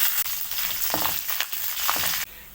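Spices, crushed garlic and curry leaves fry in hot oil in a bright, close sizzle with small crackling bursts, cutting off abruptly near the end.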